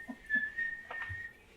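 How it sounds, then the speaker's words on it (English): A steady, thin whistle tone sounds for over a second, slightly wavering, with faint background noise underneath. "I think I'll be blowing the whistle now."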